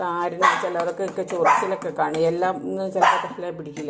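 A dog barks and yips in a few bursts behind someone talking steadily in a home setting while she prepares a natural henna hair dye, the barking fairly faint under her voice.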